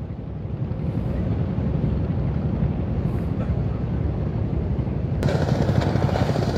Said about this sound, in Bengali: তো এই যে ট্রলার চলে আসতেছে।